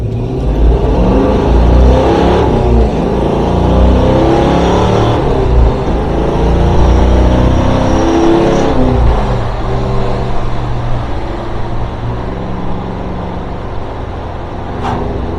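A 51-year-old 1970s Ford Mach 1 with a 351 Cleveland V8 drives along a road, its low engine rumble steady and loud throughout with mild rises and falls in revs.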